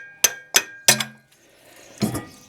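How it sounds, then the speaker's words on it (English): Three sharp metallic hammer taps in quick succession on the water pump of a Dodge Neon 2.0 engine, ringing briefly, followed by a duller clunk as the part shifts loose; no one speaks. "I'm going to tap this with a hammer."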